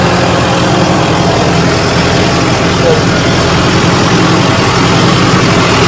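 A tractor engine runs loud and close under load in third gear, a dense, unbroken low rumble that stays steady throughout, with voices faintly mixed in.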